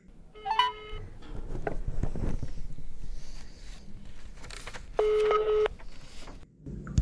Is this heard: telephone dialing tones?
yes